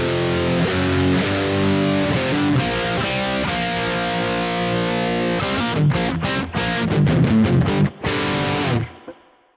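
Electric guitar played through the DS-1 distortion model of a Boss ME-90 multi-effects unit, loud, dense and fizzy, with sustained chords, then choppy stabs and a final ringing chord that cuts off.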